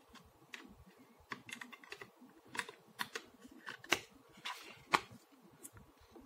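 Internal hard disk being fitted into an external enclosure case, a string of small plastic clicks, taps and rustles close up, irregular and fairly quiet, with a few sharper snaps.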